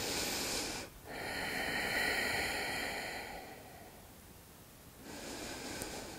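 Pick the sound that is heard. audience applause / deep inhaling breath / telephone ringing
deep inhaling breath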